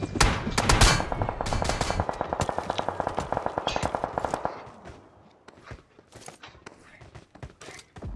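Gunfire in the battle royale game BGMI, a rapid burst of automatic shots for several seconds followed by scattered single shots and footsteps, loud and close.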